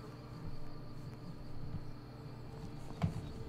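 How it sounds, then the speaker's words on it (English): Low insect buzzing of a fly drifting past in the fantasy game Skyrim, a soft droning hum that swells and wavers for a few seconds, with a small tap near the end. "Like right now, I heard a fly buzz by"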